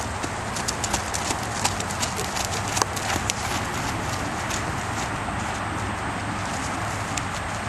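Steady clip-clop of a young horse's hooves on a hard surface under saddle, an even rhythmic gait continuing throughout over a constant background hiss.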